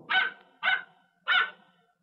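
Three sharp barks from a dog in a cartoon with a big dog and a little dog, evenly spaced, loud and close against silence, with no talk.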